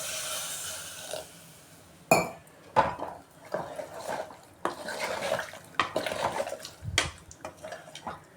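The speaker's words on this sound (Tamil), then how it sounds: "தண்ணி ஊற்றிக்கலாம்." Water goes into a cooking pot while making Tamil sambar, with intermittent splashing and metallic clinks and knocks of pot and utensils in a kitchen, several sharp hits spread irregularly across the clip.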